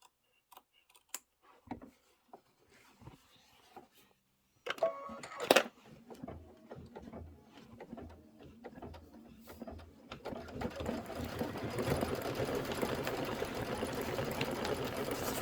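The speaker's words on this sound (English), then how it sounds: "now it wants to do the decorative stitch" An embroidery machine works a decorative stitch on a chenille watermelon hot pad, starting with sparse ticks and clicks, then building into a steady, close, rhythmic whirring hum that keeps growing louder.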